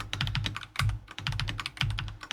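Quick keyboard shortcuts pressed on a computer keyboard while racing through an Excel challenge, a steady, continuous flurry of close, sharp key clicks in rhythmic clusters with no talk.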